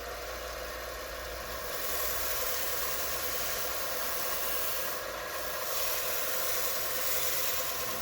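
Buffing wheel running steadily against a rusty knife blade, polishing away surface rust; a continuous loud hiss and motor whir with no pauses or talk.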